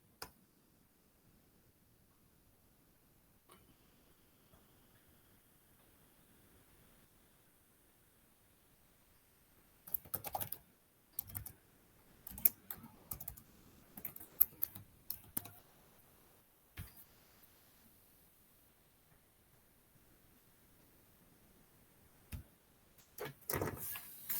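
A user ID and password being typed on a computer keyboard: after a long quiet stretch, bursts of close, crisp keystrokes in irregular runs, then a final short flurry near the end.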